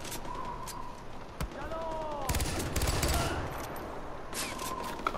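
Sniper rifle fire and gunfire from the video game Far Cry 4, a dense burst of shots cluttering the mix with game sounds, with speech audible in the background.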